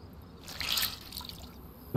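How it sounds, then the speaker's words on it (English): Soaked clothes are wrung out in the survival video game DayZ, giving a soft, faint squelch and trickle of dripping water that lasts a couple of seconds and ends in a brief knock. "So let's just squeeze them out. Squeeze all the water out."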